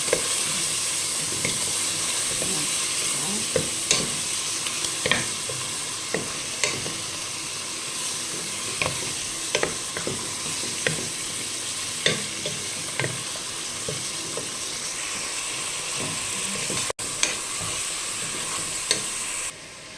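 Basela stew with pepper, cinnamon and a stock cube frying and sizzling in a pot, with steady bubbling and occasional stirring clinks and scrapes throughout, no talk.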